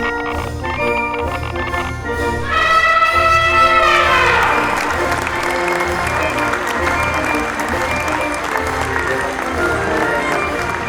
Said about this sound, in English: just general crowd noise